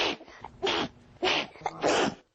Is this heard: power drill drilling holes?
no